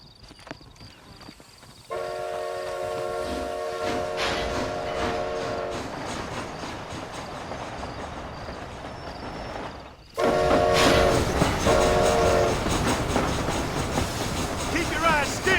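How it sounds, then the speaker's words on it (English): A steam train in Red Dead Redemption: Undead Nightmare rumbles and clatters along the rails, with its horn sounding over the running noise. The train grows louder partway through, and voices talk over it. "This train headed for Mexico."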